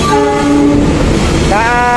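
A KA Siliwangi train passing on the Sukabumi–Cipatat line sounds a loud, sustained horn over the heavy rumble of the wheels, the horn dropping then rising again in pitch as it goes by close.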